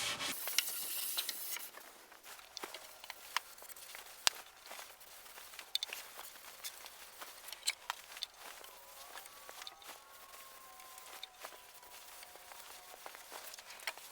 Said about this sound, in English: I'm scuffing between coats with a 3M Scotch-Brite pad